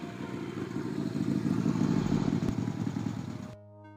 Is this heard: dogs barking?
no